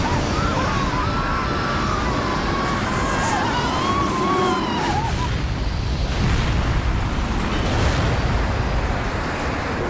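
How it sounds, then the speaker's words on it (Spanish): A wing fuel tank blows up on the TWA Flight 800 airliner, producing a loud, sustained roaring rumble of dense noise that fills the whole stretch, with faint high whining tones early on. "Y luego estalló."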